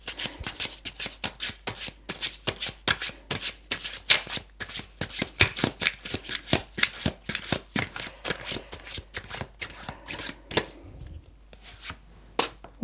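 Tarot cards shuffled briskly and continuously by hand, a dense run of close, crisp riffling flutters that thins out and ends near the finish, with no talking.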